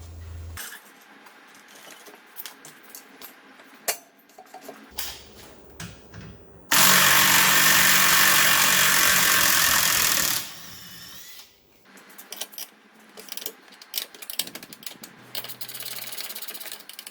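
Bolts on a Ford Focus XR5/ST225 rear control arm being fully tightened, with a loud, steady buzzing power-tool run of several seconds between shorter clicks and clatters of work nearby.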